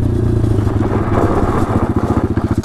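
A pit bike engine runs close and loud with a rough, pulsing throb that turns into a faster rhythmic chatter toward the end, suggesting a loose rattle, with no speech.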